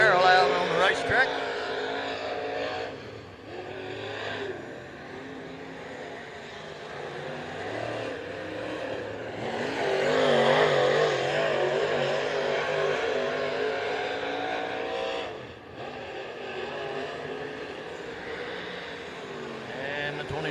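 A race car circles the Wartburg Speedway oval, its engine a continuous loud roar with rising and falling pitch as it laps, while a voice talks over it.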